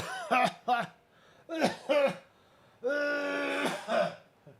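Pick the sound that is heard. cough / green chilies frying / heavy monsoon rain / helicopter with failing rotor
cough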